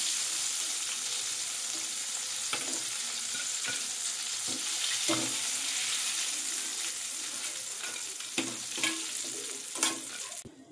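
Chicken popcorn fries in hot oil with a continuous bright sizzle, stirred now and then with scattered scraping clicks, close and fairly loud, with no voices over it.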